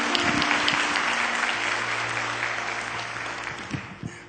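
A church congregation's applause continues as a dense, steady clatter of many hands, gradually fading in loudness over a few seconds with a couple of isolated claps at the close.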